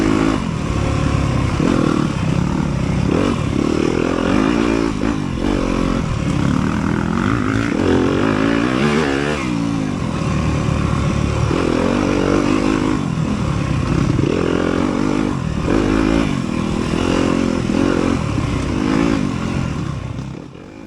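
A Yamaha YZ250FX dirt bike races through a wooded enduro test in Mississippi, its engine loud and close throughout, revving up and down constantly with sharp throttle surges and no talk.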